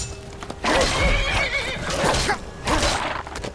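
A horse in the video game Skyrim whinnies loudly and clearly, with faint clip-clop hoofbeats underneath and no talking in between.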